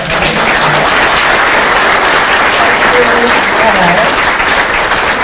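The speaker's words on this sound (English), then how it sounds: "So let's give huge rounds of applause for" Audience applause for a panel discussion on neurodiversity workplace initiatives, a dense, steady clapping that fills the whole stretch at full loudness, with a faint voice audible beneath it.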